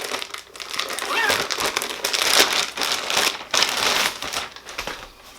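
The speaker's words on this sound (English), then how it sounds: "So he put it in a Ziploc bag." A plastic Ziploc bag crinkles close up in a run of crackly, uneven rustling bursts as it is handled.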